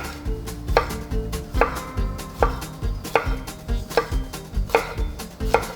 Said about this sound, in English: I'm gonna slice up a little bit of the jalapeno for garnish